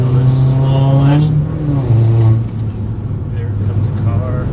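Engine of a 2002 Volkswagen GTI pulling hard as it accelerates into a twisty road, a rising mid-pitched drone that drops after a shift, heard up close from inside with someone talking over it.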